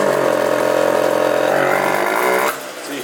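A Phantom F12 scooter engine idles steadily with a rich, gargling rumble, as if running too much fuel, then drops slightly in level near the end.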